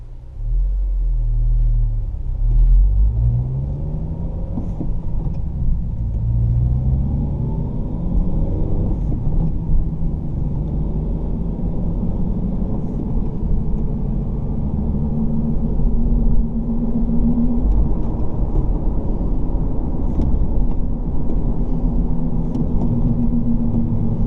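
A Honda car running a Hondata Flashpro basemap drives steadily, its engine and road rumble a continuous low drone heard from inside, with gentle rises in pitch as it accelerates and shifts, no voices.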